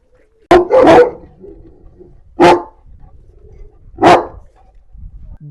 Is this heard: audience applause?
no